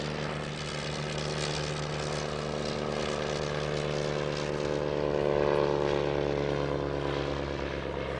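A warbird propeller aircraft flies over an airfield during an airshow, its engine droning loudly and steadily with a slight swell in volume as it passes, with no talking.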